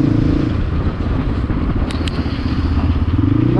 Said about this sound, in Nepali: म चाहिँ अहिले यसरी दाइको बाइक चलाइरहेको छु